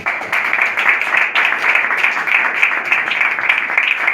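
Audience applause at a trophy of merit ceremony, steady clapping from a crowded room that holds evenly for several seconds without speech.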